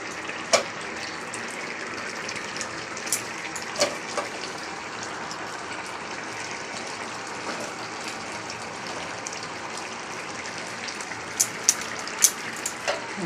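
Fish frying in a pan during a Bengali home cooking session, a steady soft sizzle with scattered crackles and pops running throughout, with no talking.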